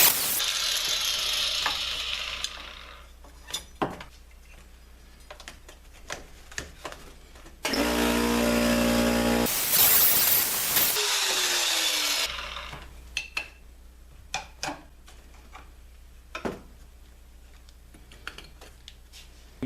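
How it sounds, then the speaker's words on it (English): A driveshaft carrier bearing is spun by hand, giving a dry, scraping, ratcheting rotation with clicks between strokes and a louder continuous grinding burst partway through, close up in a workshop. "You can hear the drag on that bearing."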